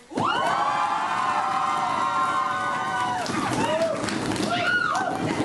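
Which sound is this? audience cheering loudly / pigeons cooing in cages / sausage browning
audience cheering loudly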